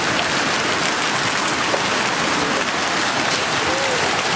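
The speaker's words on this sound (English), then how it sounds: "I have never seen hail this big in my life" A heavy hail storm drops big hailstones in a constant, roaring patter that stays loud and even throughout, with no voices.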